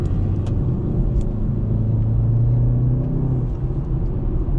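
A BMW 330i G20 sedan accelerating on a road in sport mode, a steady loud engine rumble with a rising tone through the revs, heard from inside the car with no talking.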